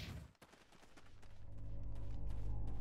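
Sustained weapon fire in Mass Effect: a few separate shots at first, then a continuous rising burst of rapid fire that grows louder and denser toward the end, with no voices.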